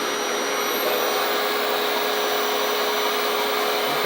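A RevAir suction hair dryer blows hot air with a loud, steady whooshing roar that holds unchanged from start to finish, close by and alone.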